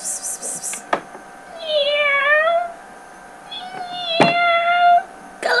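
A cat meows twice in long, drawn-out, wavering cries close by, separated by a pause, with a few sharp knocks and brief background noises around them.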